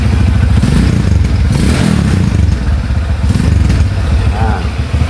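A 1994 Honda Tiger motorcycle idling with its engine running, a loud steady low rumble and mechanical clatter close to the microphone throughout, with no speech.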